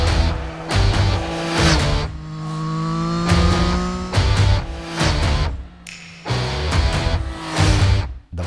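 A 2023 Triumph Street Triple RS motorcycle on the road, its engine revving hard through repeated rising pulls, loud and close, with brief gaps between gear changes.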